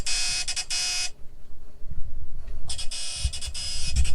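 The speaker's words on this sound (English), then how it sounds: "We're just cooking and now the alarm came on." A loud high-pitched electronic boat anchor alarm beeps in rapid pulses as the anchor drags, stops for a moment, then resumes, with low rumbling and clatter underneath.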